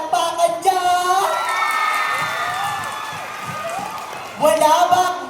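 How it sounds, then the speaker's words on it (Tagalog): A school-play audience claps and cheers loudly, a dense burst of applause with whoops and children's shouts that swells at the start and again near the end. "Wala ba masigabong palakpakan dyan?"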